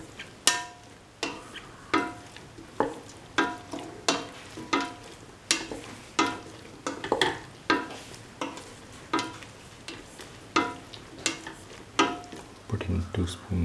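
Eggplant rice fried in a pan and stirred with a spoon, a steady soft sizzle broken by regular scraping clanks roughly every second, close and moderately loud, with no talking.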